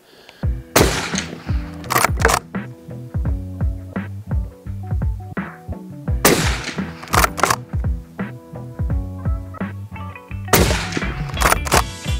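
Suppressed rifle shots fired at a paper target using multi-part suppressors from makers such as Ase Utra and A-Tec, sharp cracks in spaced groups with ringing, rhythmic mechanical clatter between them, loud and close.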